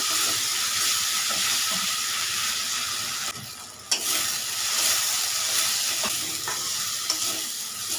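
Spice paste fries in a kadai for a Bengali rui fish and bottle gourd curry, giving a steady, loud, broad sizzle with faint stirring scrapes and one brief dip and pop partway through.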